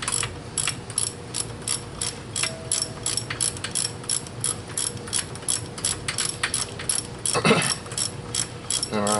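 A hand ratchet runs down catalytic converter bolts on a 2007 Mini Cooper S R56, giving a steady, close series of rapid metallic clicks with a brief louder burst of handling noise near the end and no talking.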